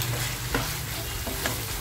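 Spice masala frying in oil in a pan and being stirred: a steady close sizzle with several soft scraping stirs, no voices.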